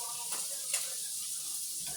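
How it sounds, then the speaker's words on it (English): Potatoes sizzle in a hot pan with a steady crackling hiss, close up, with a couple of faint clinks of stirring. "Here, they're frying up"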